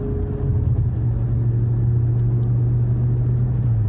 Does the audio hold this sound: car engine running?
yes